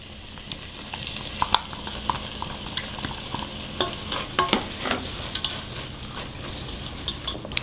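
Cabbage stew ingredients sizzle and get stirred in a pot, a steady close frying hiss broken by scattered scrapes and clicks of a utensil against the pot, with no voices.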